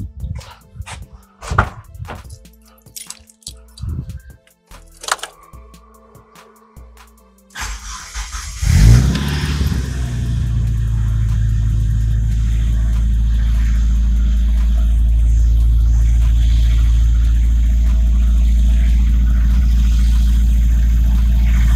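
After some clunks and rattles, a freshly overhauled Satria 4G93 engine cranks and catches, surges as it revs, then settles into a loud, steady, too-high idle.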